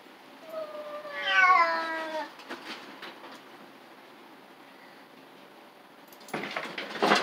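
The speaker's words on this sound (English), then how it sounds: "There's that white ginger spotted cat. Hey kitty kitty. This guy's territorial." A territorial white and ginger spotted cat lets out a drawn-out, wavering meow outdoors at night. The meow comes early and fairly close, followed by quiet and then a burst of rustling noise near the end.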